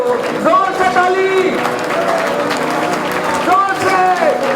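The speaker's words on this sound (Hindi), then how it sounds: "जोर से ताली," A congregation claps loudly during worship at Kings Revival Church in Dubai. The crowd applause rolls on steadily beneath a leader's voice and singing.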